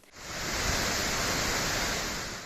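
The swollen Tortum Waterfall in Turkey, fed by an overflowing Tortum Lake after spring rains and snowmelt, gives off a loud, steady roar of rushing water that sets in quickly and holds without break.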